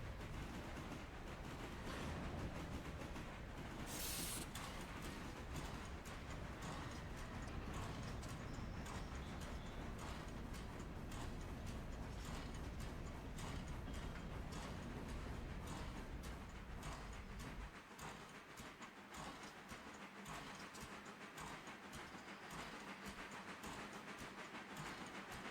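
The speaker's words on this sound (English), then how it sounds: "Our other train is just coming down here now." A train rolls in on the tracks in the railroad simulator game Railroader, a steady, dense rumble and clatter lasting throughout, easing slightly toward the end, with no voices.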